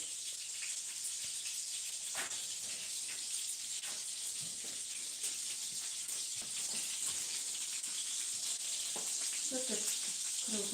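Turkey cutlets sizzle and crackle steadily in a frying pan, a dense continuous hiss broken by small pops, with some faint speech nearby.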